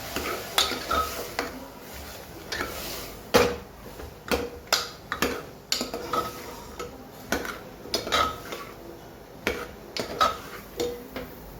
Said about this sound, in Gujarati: પહેલાં હળદર એડ કરી લઈએ અને મિક્સ કરી લઈએ.